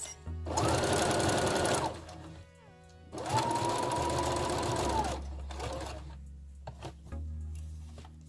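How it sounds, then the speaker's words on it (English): A sewing machine stitches over elastic on a tube dress in two steady runs of whirring motor and rapid needle chatter, each over a second long with a short pause between, close and loud with no talk. "So you can sew over the elastic here."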